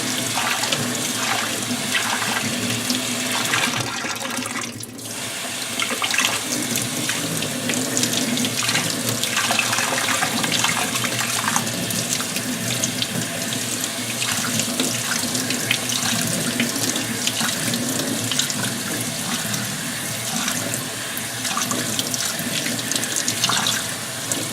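Tap water runs steadily over goldfish tank items being rinsed in a sink, a continuous close splashing stream lasting throughout with slight changes as the items shift under the flow; no talking.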